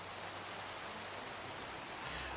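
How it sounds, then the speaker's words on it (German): Steady rain in the Minecraft Skyfactory 3 modpack, a soft continuous hiss of falling water with no breaks, fairly quiet and alone without any talk. "Boah, ich hasse Regen."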